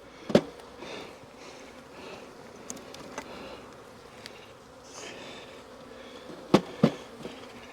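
Honey bees buzz around hives as mating boxes are stocked with emerging brood and nurse bees, a steady faint hum with a few sharp close buzzes as bees pass near, no talking.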